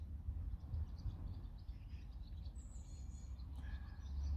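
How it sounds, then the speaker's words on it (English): Birds sing outdoors in faint, scattered chirps over a low, steady background rumble. "Do you hear the birds?"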